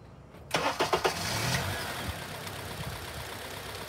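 A car engine cranks briefly, catches, and settles into a steady, smooth idle on all cylinders, heard close and alone after a short silent start.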